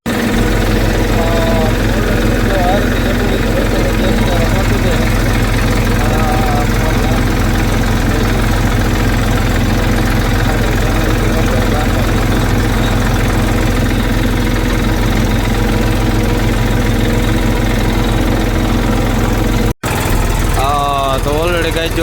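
A tractor engine runs on a farm where jowar is being sown between lemon trees, making a loud, constant low drone with a throbbing vibration. Voices talk over it, and the sound cuts out briefly near the end.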